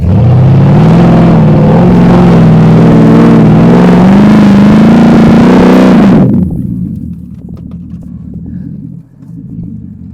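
A car engine revs hard and steady in first gear while trying to climb a steep sand dune on a beach, loud and close for about six seconds, then cuts off, leaving faint rumble and wind.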